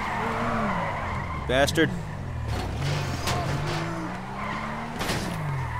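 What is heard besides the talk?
car tires skidding as a car spins out in GTA 5 video game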